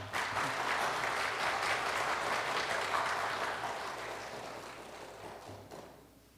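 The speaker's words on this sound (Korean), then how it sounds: "우리 박수를 한번 해주시죠." A church congregation claps steadily in warm, dense applause that fills the room, then slowly fades and thins out toward the end.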